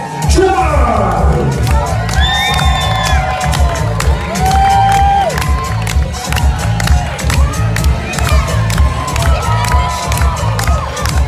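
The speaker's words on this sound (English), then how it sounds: "Please give him a thunderous round of applause from North Carolina, John!" A loud crowd on a cruise ship cheers, whoops and claps for a belly flop contestant, with shouting voices and whistles layered over dense, continuous applause throughout.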